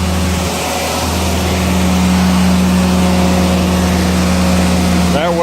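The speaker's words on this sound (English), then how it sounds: "I'm going to pull out the throttle, rev her up a ways." An idling engine driving a generator is throttled up, giving a steady, loud mechanical drone that holds a constant hum with a slight rise toward the end.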